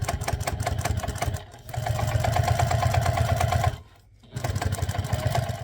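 A sewing machine runs in steady, loud stitching bursts, sewing an eighth-inch seam along the open end of a fabric zip pouch. It pauses briefly twice, with no talk over it.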